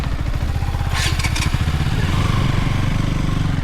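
A motorcycle engine runs steadily and loudly throughout, close by, with a brief higher-pitched rasp partway through, ridden on a trip to the Octopus viewpoint at Srisailam.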